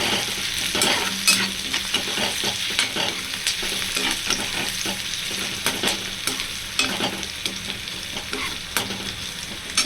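Onions fry in oil for a Tamil fish curry, a constant sizzle under rhythmic scraping strokes of a spatula against the pan as they are stirred toward brown.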